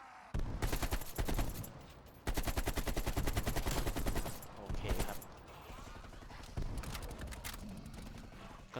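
Rapid bursts of automatic gunfire rattle in long volleys with brief gaps between them, loud and close, with game sound effects mixed in, while shooting zombies in Call of Duty: Cold War zombies mode.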